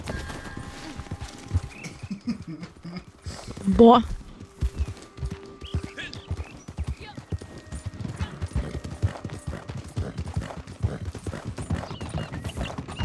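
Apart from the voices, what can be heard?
horse galloping in a video game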